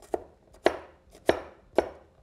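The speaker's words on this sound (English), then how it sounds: "The cleaver is good for chopping, slicing, and its flat surface is very, very nice" A cleaver chops food on a board in four sharp, evenly spaced strikes, each a crisp close thud with a quick decay.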